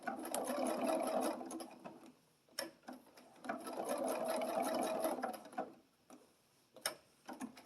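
A sewing machine stitches along the edge of a black O on a Halloween bats-and-boos table runner, running in two sustained mechanical bursts with brief pauses and a few clicks between them.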